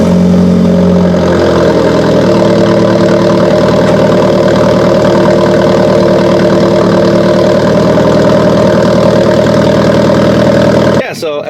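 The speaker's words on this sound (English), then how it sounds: "this will be the last time you see and hear the exhaust in the state that it is now" An Alfa Romeo 4C with a Capristo exhaust idles steadily and loudly up close on a cold start, with a deep, rumbling exhaust note and a slight uneven pulse, cutting off abruptly near the end.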